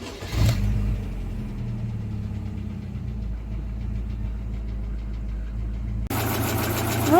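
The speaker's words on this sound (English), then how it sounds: "that's the engine all running after we've changed the oil pump" A Rover 45 car with a K-series engine runs steadily after an oil pump change, a low, even idle hum lasting several seconds, close and continuous, with a brief sharper burst of noise near the end.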